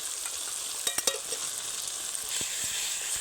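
Chopped tomatoes frying in a pan with ginger, garlic and onion for a chicken curry, a steady close sizzle with a few sharp spatter pops and light stirring clicks.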